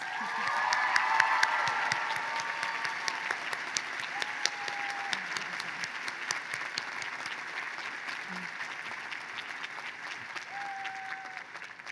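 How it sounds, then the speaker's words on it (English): Steady applause from a large crowd at a Salve Regina University undergraduate commencement, honoring graduates' families, sustained and even over several seconds with a few faint voices and cheers mixed in. "Let's give them a heartfelt round of applause"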